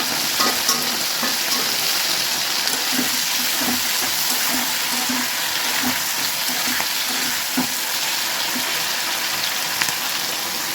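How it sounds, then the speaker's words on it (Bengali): Cauliflower and beans fry in a pan while being gently stirred, giving a steady close sizzle with soft scraping strokes throughout. "সিমগুলো যতক্ষণ ভাজা না হয় ততক্ষণ কপিটা হালকা করে নাড়তে হবে"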